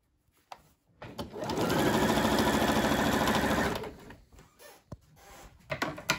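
Sewing machine stitching bias tape onto a bandana dress, one close, steady mechanical run of about three seconds framed by fabric handling clicks and rustles, with no talk.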